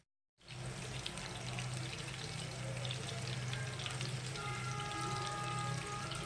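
Beef chapli kababs frying in hot oil, a steady dense sizzle that starts abruptly after a brief silence and continues evenly throughout, close and moderately loud with no talking.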